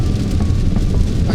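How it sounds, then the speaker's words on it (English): Heavy rain pours down steadily and loudly, a dense continuous wash of close drumming with no voices over it. "the rain is suddenly so bad"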